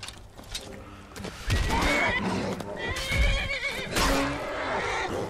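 A horse in the video game Skyrim neighs with a loud, drawn-out whinny, along with hoof clip-clops and game sound layered over it, and a voice runs through the same stretch.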